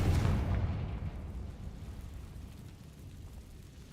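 A Confringo fire spell explosion in Hogwarts Legacy booms loudly at the start, then its rumble fades away over a few seconds.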